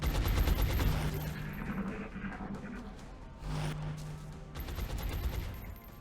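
Gunfire in the turn-based game XCOM Long War comes as a dense crackling volley of shots that fades, then swells into a second burst, fairly loud and with no speech.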